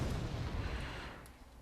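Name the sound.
artillery bombardment in Wargame: European Escalation, a video game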